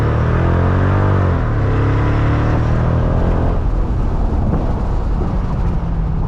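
A 2005 Mercedes-Benz CL55 AMG C215 drives with a loud, steady engine drone from inside the cabin. Its pitch climbs early on, then settles into a constant road roar with no talking.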